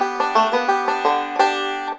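A five-string banjo plays the B-section lick of Cripple Creek with no string bend, a quick run of bright plucked notes in a steady rolling rhythm, close and clear with nothing else heard.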